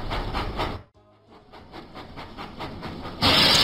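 Thomas the steam engine from a Thomas & Friends video game puffs along rails in steady rhythmic chuffs with hiss, briefly dropping away before a louder hissing burst at the end.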